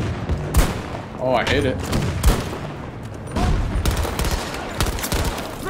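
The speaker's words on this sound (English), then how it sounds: "someone's shooting up here!" Rapid bursts of gunfire in Battlefield 2042 crackle through a noisy battlefield, with sharp shots and loud cracks repeating over a few seconds while a player talks over them.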